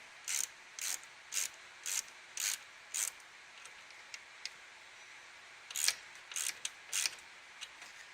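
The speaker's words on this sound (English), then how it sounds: "You grab your 8mm or your flat head if you prefer. You tighten your clamps." A series of sharp ratcheting clicks from an 8mm tool tightening hose clamps on an oil catch can fitted to a 2010 Dodge Challenger SRT8 with the 6.1L Hemi, coming in quick evenly spaced bursts, close and fairly quiet, with a brief pause midway.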